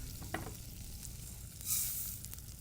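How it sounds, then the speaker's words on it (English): Oil sizzles softly in a pan before arborio rice is added for risotto, a faint steady crackle with small pops and a brief hiss swelling near the end. "I'm starting to hear sizzle, sizzle, sizzle. And that's a sign to add the arborio rice."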